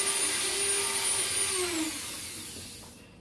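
Dremel rotary tool fitted with a cutting bit shaping a tobacco pipe, a steady high whine with a falling pitch that winds down and fades toward the end, no talking.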